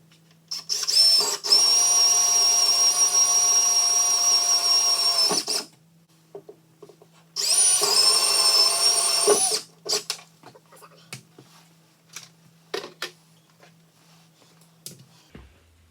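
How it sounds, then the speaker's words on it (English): A hole saw bores into plastic for a Honda Pioneer 1000-5 storage build, giving two sustained high-pitched whining drill runs of about four and two seconds, loud and close, followed by scattered knocks and handling clatter. "So take a hole saw I'm going to punch those 4 holes"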